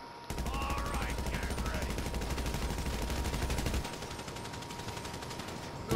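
Sustained automatic gunfire in a GTA video game, a rapid, steady rattle of shots that runs loud for several seconds, then drops to a fainter, more distant volley, with a sudden burst at the end.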